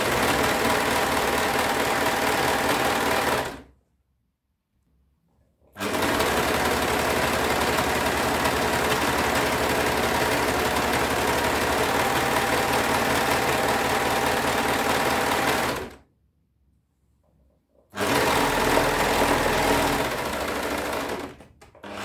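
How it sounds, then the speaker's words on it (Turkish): A sewing machine stitches the side seams of knit trousers in sizes 42/44. It runs in a loud, steady, close whir over long stretches, and stops twice briefly. "Yanları dikiyorum."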